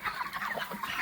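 Broiler chickens around a month old clucking in a poultry shed, a dense close chorus of overlapping clucks with no talk.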